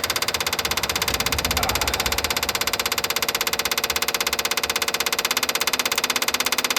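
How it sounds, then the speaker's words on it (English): Fuel pump clattering on a 1955 International Harvester R-150 truck during a cold start at 11 degrees F, a loud rapid, evenly pulsing mechanical ticking that runs steadily and close up. "That fuel pump is clattering away"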